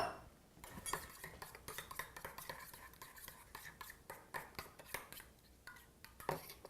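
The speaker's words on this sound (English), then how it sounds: "We also have mustard. Mix this together." A utensil stirring and scraping ingredients with mustard and lemon juice in a dish, a run of quiet, irregular clinks and scrapes, close but faint.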